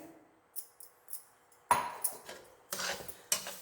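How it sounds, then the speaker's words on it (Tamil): Spoon scraping and clinking in a large metal vada pan while sugar is stirred into a coconut mixture, a few irregular close knocks and scrapes with quiet gaps between. "இது கூட இந்த சுகரை கலக்கிடுறேங்க"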